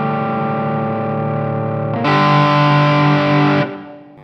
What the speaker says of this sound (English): Let's just check how much overdrive we can get.